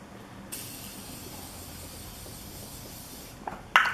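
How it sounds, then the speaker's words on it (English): A steady, fine spray of setting mist hisses for a few seconds close up as it is misted onto a face, followed by a brief sharper spritz near the end. "I use the Morphe Continuous Setting Mist, and I just spray my whole face"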